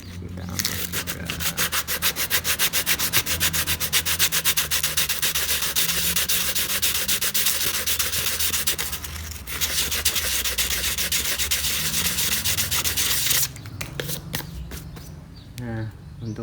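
Steady, rhythmic scratching of sandpaper rubbed back and forth on wood, continuous and close, with a brief pause partway through and faint voices underneath.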